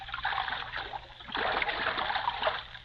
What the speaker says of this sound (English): bringing their big dugout back across the river and hiding it in the overhanging bushes